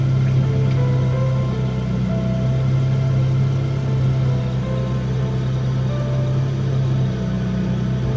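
A car engine idles a little too high, a steady low hum with a strong constant drone holding throughout, close and alone without any talk.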